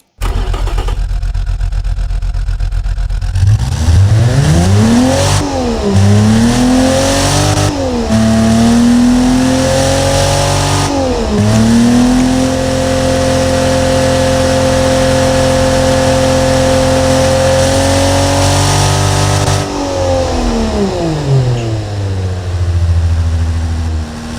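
A Mercedes-Benz M104 2.8-litre straight-six in the game Automation, modified to run on 91-octane fuel, fires up and revs loudly and steadily, its pitch rising and falling through several throttle blips before settling into a sustained high rev, with no talking.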